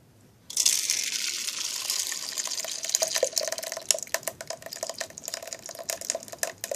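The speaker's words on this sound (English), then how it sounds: "so now I'm gonna pour" Passion fruit puree pours into a wide-mesh sieve, beginning abruptly with a wet rushing splash that settles into a steady close stream, then breaks into sputtering drips and splatters.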